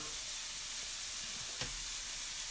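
Sausage and peppers sizzle in a pan, a steady, close frying hiss with a faint stir or clink partway through, no voices.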